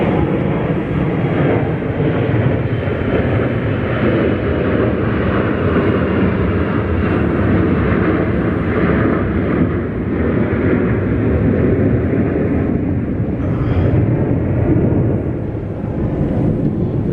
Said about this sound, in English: as this plane messes up my take